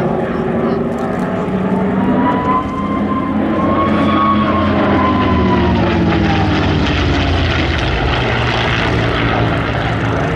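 A P-38 at the Sywell airshow flies past with its engines droning continuously, loud and steady for the whole stretch with a slowly shifting pitch sweep, and no voices over it.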